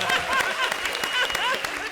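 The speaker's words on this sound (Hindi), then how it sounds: "जोरदार तालियां अरबाज भाई के लिए।" Studio audience applauding on a comedy show: dense, continuous clapping at moderate loudness, with voices mixed in beneath.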